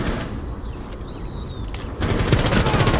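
Rapid gunshots in Rainbow Six Siege sound as a steady, close string of shots, with a brief whistling sound partway through and a louder, denser burst near the end.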